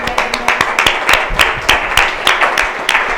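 Audience at a church sermon claps in quick, uneven bursts of many hands, a steady rolling patter close by with no voices over it.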